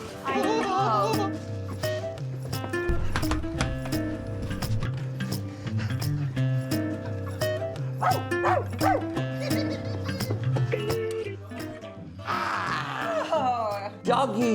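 A cartoon dog barks amid busy animated-show music, with short yips and bow-wows scattered over steady melodic backing and voices talking throughout.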